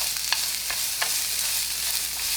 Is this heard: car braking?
no